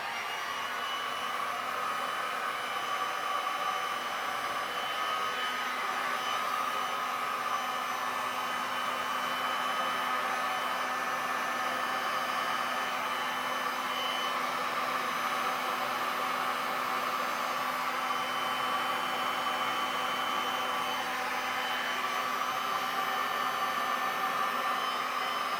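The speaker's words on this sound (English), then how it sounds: "If not, then I'll get the blow dryer again" Blow dryer pushing waves of poured resin across a pink sand beach painting, a steady loud whooshing airflow with a constant hum running unbroken and close throughout.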